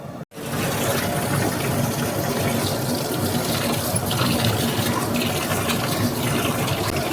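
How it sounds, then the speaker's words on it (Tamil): Water gushing steadily into a large batch of soaking rice for chicken biryani, a loud continuous pouring rush that starts abruptly after a brief break and keeps flowing without pause. "இப்போ தண்ணி ஊற்றிடலாங்க"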